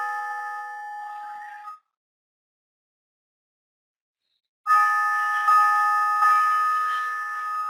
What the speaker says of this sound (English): we're going to have these bells here again for a second